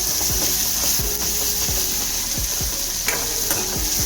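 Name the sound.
tomatoes sautéing in a pan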